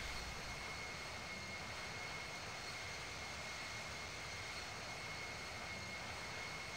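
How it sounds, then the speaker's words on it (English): Steady, continuous jet engine drone of a Boeing airliner in the Infinite Flight simulator, an even broadband roar with a faint high whine, holding constant with no talk. "Jordan says this airplane would break up in the air going as fast. No, the Boeing can actually go about this fast."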